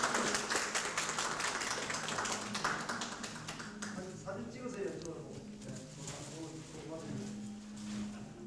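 An audience applauds at a Korean health and medical technicians' day award ceremony, with dense clapping at first that gradually thins out, and a voice speaking toward the end.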